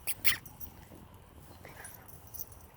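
A dog whimpers faintly on a walk through a cemetery, giving a few short, thin bursts early on and again near the end over quiet outdoor background noise.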